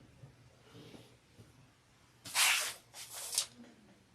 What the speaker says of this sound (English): All right, so I'm just going to go spray.